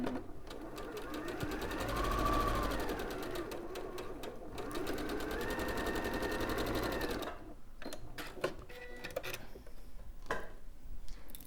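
A sewing machine runs continuously stitching lines on a quilt, a close steady whirring hum for several seconds, then stops into light clicks and handling noises.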